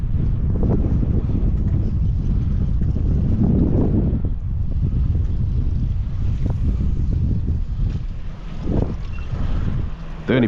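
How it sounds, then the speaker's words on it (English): Strong wind at sea buffeting the microphone on a fishing boat, a continuous loud low rumble with gusts rising and falling, maybe mixed with engine and water noise. "this wind has taken us off the mark quickly"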